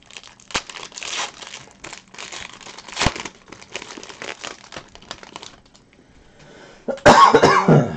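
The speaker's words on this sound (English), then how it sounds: "for the last 3 months, I've got this nagging cough" A person with a nagging cough of several months coughs hard near the end, after a stretch of crinkling and rustling from trading card packs being handled close by.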